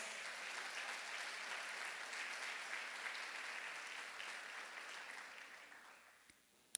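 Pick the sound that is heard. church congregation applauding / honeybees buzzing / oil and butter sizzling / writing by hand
church congregation applauding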